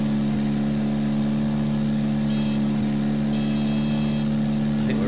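Aircraft engine at full throttle in X-Plane 10, a steady loud droning hum with strong low tones, a heavily laden plane climbing, unbroken throughout.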